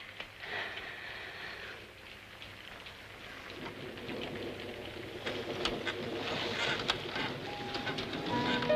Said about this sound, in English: Seems like it's been raining for a week.